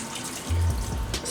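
Tap water runs steadily from a kitchen faucet as raw chicken thighs are rinsed in a sink, a continuous close splashing wash with a brief louder surge midway.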